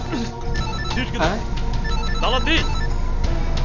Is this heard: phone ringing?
yes